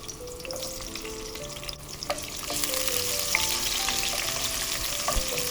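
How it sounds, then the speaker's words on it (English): Onion, garlic and green chilies sauté in hot oil, a steady close sizzle that grows louder partway through, with stirring and light clinks of a utensil against the pan. "just saute them slightly"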